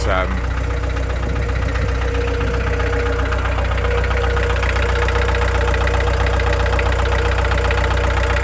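A reconditioned 1.9 turbo diesel engine idles steadily, with a loud, constant low rumble and a fine clattering tick close by, with no pauses throughout.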